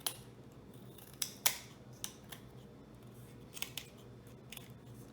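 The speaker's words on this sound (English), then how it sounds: "I'm gonna trim a little bit there and a little bit here." Scissors snip through the paper or card wheel of a rubber band racecar in a handful of sharp, close cuts, spaced irregularly with quiet pauses between them and no talking.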